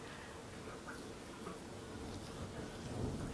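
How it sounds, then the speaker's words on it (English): Distant thunder rolls beneath steady rain during a storm, a low faint rumble that swells toward the end over a soft wash of rainfall, with no voices. "I wonder how distracting the thunder is."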